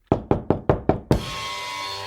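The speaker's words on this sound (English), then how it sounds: "He had to knock really loud to be heard above their bickering." Five loud, evenly spaced knocks strike a door close by, followed by a sustained bright ringing wash, with no speech.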